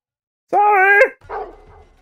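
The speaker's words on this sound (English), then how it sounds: "Somebody shut that dog up." A dog barks in the Call of Duty: Modern Warfare 2 video game campaign, one loud drawn-out bark followed by a shorter, fainter one, close and clear against silence.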